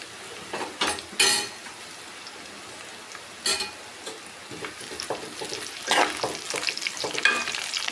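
Green chillies fry in hot oil for biryani, giving a continuous crackling sizzle broken by sharp bursts of popping and spattering, with the sound of stirring close by.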